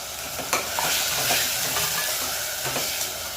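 Tomato pieces sizzle and fry in a pan with ginger garlic onion paste, a steady close hiss broken by a few scraping stirs, with no voices.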